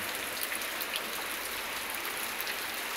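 Rain falls steadily during a rainy Sunday, a dense, even hiss of drops that runs unbroken and fairly soft throughout, with no voices.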